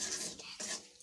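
Mustard spice paste with a little sugar and salt being stirred and scraped in a pan for a Bengali potol shorshe (pointed gourd) dish, giving soft close scraping and clinking over a faint sizzle, with no talking.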